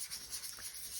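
An old nail file rubs across a card surface in quick, close back-and-forth strokes, a soft, steady scratchy rasp.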